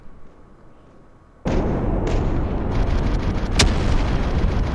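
A massive AC-130 explosion in Call of Duty: Modern Warfare 2 bursts in suddenly after a quiet lead-in. It becomes a loud, sustained rumbling roar with a sharp crack partway through, close and overpowering, with no speech.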